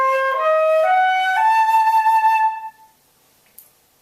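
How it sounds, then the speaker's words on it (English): A diminished seventh arpeggio starting on C, a rising string of minor thirds played as clear single sustained notes by a melodic instrument, each note stepping up before a last long tone fades away alone. "Basically, a diminished 7th arpeggio is a string of minor thirds"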